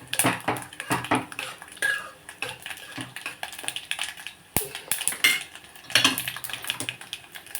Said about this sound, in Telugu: ఇప్పుడు పప్పు వేసేసుకుందాం మనం